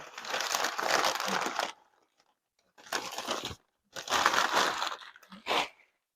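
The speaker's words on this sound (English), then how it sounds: "Open this up so we can get this shred out of here. Little paper shred." Loose paper shred packing crinkles and rustles in four bursts as it is pulled from around a shipped orchid, close by, separated by short silent gaps.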